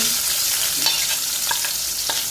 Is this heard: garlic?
yes